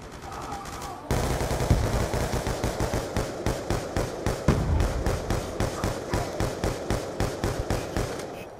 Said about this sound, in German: Er schießt immer noch, wo er nachlädt.